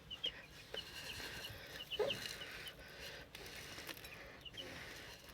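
Thirsty laying hens drinking on a farm, with soft scattered clucks and faint clicks over a steady low background hum, fairly quiet and close.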